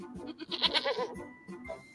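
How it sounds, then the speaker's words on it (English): A goat bleats in a wavering, nasal call close by, followed by a few softer sounds, in a children's storybook setting. "The fox heard a goat."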